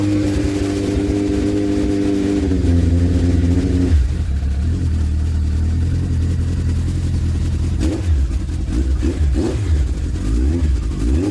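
Suzuki 1200 Bandit motorcycle engine running loud and close after a repair, steady idle rising into a sustained rev, with throttle blips and mechanical rattles toward the end.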